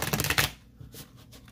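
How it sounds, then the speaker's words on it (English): A brief riffle shuffle of playing cards, a quick flurry of rapid flicks, followed by soft handling sounds and quiet. "So let me shuffle one more time."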